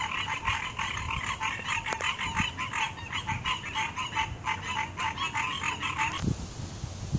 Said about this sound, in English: you can hear the frogs as they're getting ready for the evening